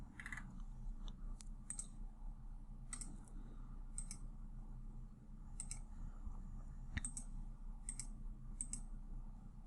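Left mouse button clicking while drawing a bathroom technical plan on a computer, sharp faint clicks, some in quick pairs, spaced irregularly over a steady low hum, with no speech.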